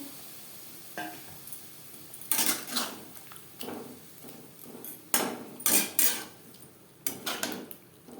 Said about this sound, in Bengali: উচ্ছের সাথে সেদ্ধ করা ডাল বেশ ভালো করে মিক্স করে দেবো